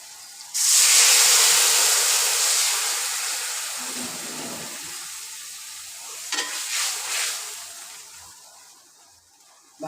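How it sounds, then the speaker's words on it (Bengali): Hot water poured into a pan of fried turmeric, salt and spices for steamed egg curry, erupting in a loud burst of sizzling and hissing that slowly fades, with a second flare of spitting and bubbling near the end. "এখন গরম পানি দিয়ে দেব।"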